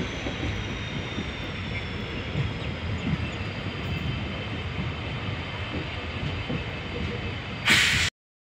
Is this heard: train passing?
yes